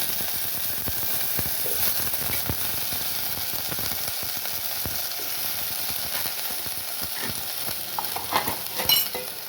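Brinjal pieces sizzle in a hot oil tempering, a continuous close frying hiss with occasional stirring scrapes and crackles, no talking.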